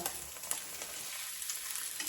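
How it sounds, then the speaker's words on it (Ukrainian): Steady, crackling sizzle of eggs frying in a hot pan, continuous and fairly close, with no voices. "Так жарю йому яйця."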